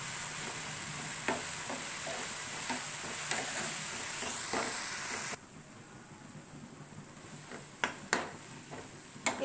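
Gongura sorrel leaves softening in a pan for mutton curry give a steady close sizzle with occasional stirring clicks, then the sizzle drops much quieter midway as a few sharper scrapes follow.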